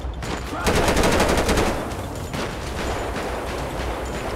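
Rapid automatic gunfire in GTA 5, a fast burst of loud, close shots followed by a slightly quieter echoing stretch of continued firing and ambient game noise.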